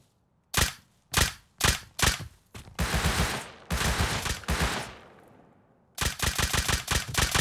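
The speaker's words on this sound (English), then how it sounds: "Oh, he's shooting me." Gunfire from a player in the survival game Rust: several loud single shots, then long sustained bursts of automatic fire and a final rapid string of shots, close and dominant with no talking.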